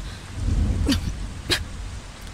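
Heavy rain pours down in a dense, steady hiss, with a couple of sharper splashing bursts cutting through the continuous wash.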